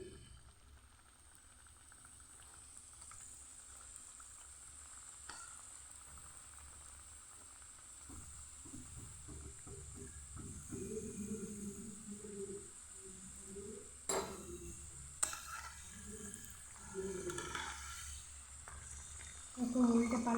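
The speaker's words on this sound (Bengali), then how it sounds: "কিছু ভেজে দেখাচ্ছি আপনাদেরকে" Singaras with a maida dough shell deep-frying in oil make a soft, continuous sizzle and bubbling, quiet and steady, broken by a few faint clinks and stirring sounds.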